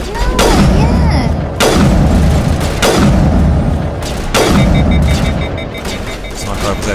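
A sniper rifle in the Mass Effect video game fires four loud, booming shots about a second apart, each a heavy blast trailing into a rumbling echo.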